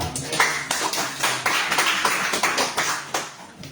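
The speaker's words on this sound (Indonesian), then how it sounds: "Beri tepuk tangan bagi Tuhan." A church congregation claps along in a steady, lively rhythm, the close, loud claps filling the room with a faint murmur of voices underneath.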